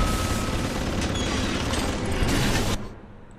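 Bombardment in Bioshock 2 fills the space with a dense, continuous roar of explosions and gunfire-like rumble, loud and close, cutting off abruptly near the end.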